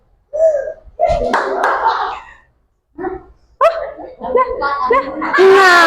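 Children clap their hands during a classroom counting exercise, with a few sharp claps scattered among lively young voices and pauses between bursts.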